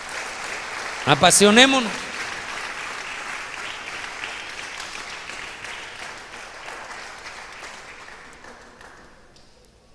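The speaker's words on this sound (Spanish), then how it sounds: "Yo no sé si usted le da un aplauso al Señor" A church congregation applauds during a service, a brief shout rising over the start before broad clapping carries on steadily and slowly fades.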